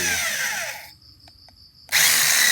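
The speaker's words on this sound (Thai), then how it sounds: "ก็เจาะเข้าไปเลย" Power drill boring holes into a broken wooden handle of a spade or machete held in a vise, with a loud whining drill run, a short pause with faint clicks, then the drill starting again.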